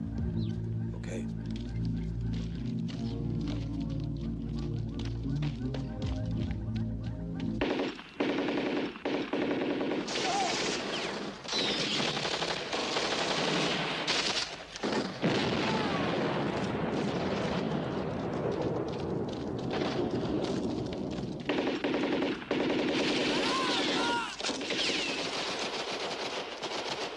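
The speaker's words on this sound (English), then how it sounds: "Don't shoot, it's Marino" Action-film gunfire with machine guns: after a dramatic musical opening, a dense, sustained roar of automatic weapons and blasts plays loud and continuous for most of the scene.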